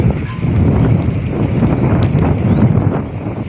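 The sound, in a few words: wind blowing during a rain storm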